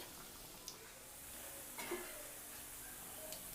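Medu vada, soft urad dal fritters, frying in a pan of hot oil: a faint, steady sizzle with a few light clicks and bubbling pops, no voices.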